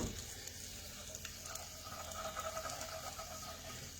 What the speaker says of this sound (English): Again, I'm just stirring this real quick.